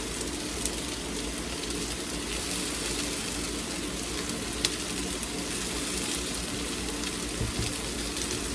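Garlic frying in a pan, a steady dense sizzle that stays even and close throughout with a few faint clicks, no talking over it.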